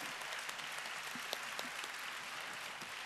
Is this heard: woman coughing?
no